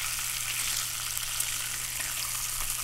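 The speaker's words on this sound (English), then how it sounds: "Oh, listen to that sizzle." Bacon sizzles and crackles steadily in a hot pan while camping outdoors, a close, constant hiss with small pops and no talking.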